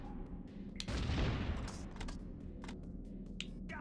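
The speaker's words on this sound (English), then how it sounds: "I'm gonna shoot a grenade first." A grenade launcher firing in the game Judge Dredd vs Death in a future sewer level, giving one muffled thump followed by a rumbling blast and then a few fainter pops afterward.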